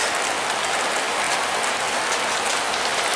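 Heavy rain pours onto a bus departure platform in a dense, steady hiss that stays loud and even throughout.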